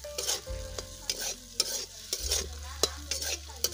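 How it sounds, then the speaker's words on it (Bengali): Spices for egg curry, chilli and turmeric powder, fried and stirred in a pan: rhythmic spatula scrapes about every half second over a steady sizzle, with a low stove hum underneath, close and clear, no voices. "সমস্ত উপকরণ খুব ভালো করে নেড়ে চেড়ে আমি কষিয়ে নেব"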